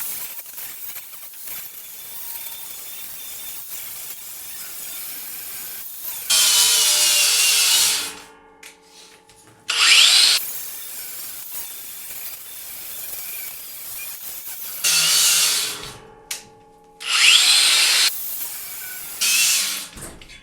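A Bauer cordless brushless angle grinder on a 1.5 amp-hour battery, running in several bursts of high whining spin with short pauses and spin-downs between them, no talk.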